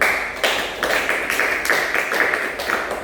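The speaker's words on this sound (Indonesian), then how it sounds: "tepuk tangan untuk kita semua" A small group clapping together in a podcast setting, a run of close, sharp, somewhat uneven claps of fairly even loudness, with no talk over them.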